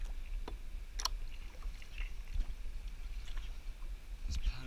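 Kayak paddling on the Murray River while playing a snagged yellowbelly on a spinnerbait: soft, irregular paddle splashes and water sloshes against the hull, close up, with faint wind and no talking.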